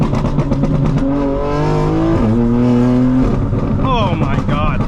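900 hp 2025 BMW M4 Competition xDrive accelerating on the road, the engine loud and close with rising pitch through gear changes, ending in a higher rev sweep.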